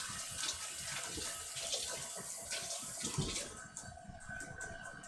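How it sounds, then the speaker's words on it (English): Running tap water pours steadily during hand washing at a kitchen sink in a home baking setting, a continuous broadband rush with small splashing variations, fairly near and moderately loud, with no talk. "Let me wash my hands."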